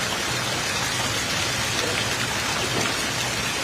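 Rain falling steadily outdoors at the G7 summit, a dense, constant hiss of drops that stays loud and even from start to finish, with no talking.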